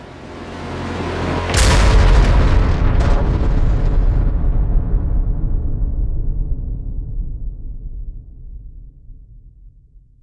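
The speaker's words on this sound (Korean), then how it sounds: "이어 거대한 폭발이 발생하면서 항공기는 순식간에 불덩어리로 변했고" Massive explosion as an Air India Boeing 787 crashes into a densely populated area: a sudden loud boom that swells into a long, rumbling roar, then slowly fades out over several seconds, with no voices.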